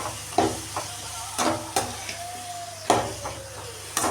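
Tomatoes and mixed vegetables for sambar sauté in a pan with a soft sizzle, broken by repeated spatula scrapes and stirring knocks at an uneven pace.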